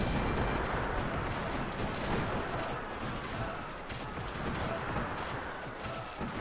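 Dense, unbroken roar of cannon fire and battle din in the video game Cossacks: Art of War, loud and constant from start to finish.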